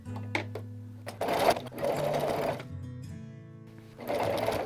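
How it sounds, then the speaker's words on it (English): Sewing machine stitching a quilt facing with a quarter-inch seam allowance, running in short bursts that stop and start, then settling into a steady, close, mechanical whir, with no talking. "So just make sure your corners are placed good, and you can just start sewing."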